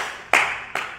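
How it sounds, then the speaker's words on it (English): Two sharp hand claps from a church congregation, a loud burst followed by a second slightly softer one, no voices. "Clap your hands."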